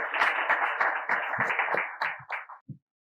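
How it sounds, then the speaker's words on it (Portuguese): Audience applause follows the introduction of an author at an arts and culture event, with dense clapping that thins out and ends in a few last scattered claps. "Um aplauso para Paulo Barriga"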